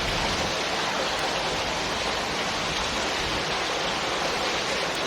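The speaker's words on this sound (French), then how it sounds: "Les gars, comme vous pouvez voir, il pleut de ouf." Heavy rain pours steadily in Argelès, a dense, constant broadband hiss that fills the whole stretch at close range with no voices over it.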